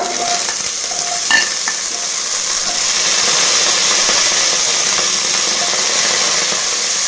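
Chopped vegetables sauté in oil for kadamba rice, a loud, close, continuous sizzle with occasional clinks and scrapes of stirring early on, and no speech.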